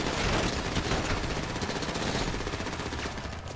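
Sustained automatic gunfire during a GTA 5 Online Humane Labs heist setup mission, a dense, continuous rattle of shots at steady loudness throughout, with no clear talk.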